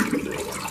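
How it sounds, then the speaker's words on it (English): Water rushes steadily into a toilet tank with the lid lifted, a close, continuous hiss and splash with no talking. "I'm going to run the water"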